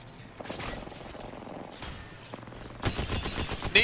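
Rapid bursts of gunfire ring out in a battle royale video game match, with dense overlapping shots that swell into a louder, sustained volley near the end.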